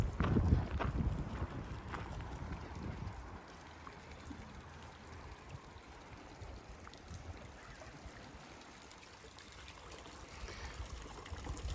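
A garden water feature at Sledmere walled garden, England, trickles faintly and softly in the background with light outdoor ambience and a brief louder rustle at the start.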